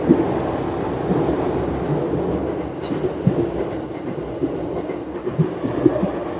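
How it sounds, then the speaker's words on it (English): A train rolls past near a pedestrian crossing in Kanagawa, Japan, making a loud, continuous rumble with rhythmic clattering thumps from the wheels, close by and with no talking. "That's the train."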